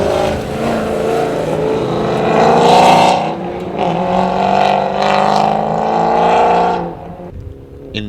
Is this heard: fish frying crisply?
no